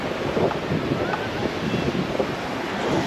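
Sea waves wash onto Benaulim Beach in South Goa, a steady rolling surf with wind rumbling across the microphone, broad and continuous without clear breaks.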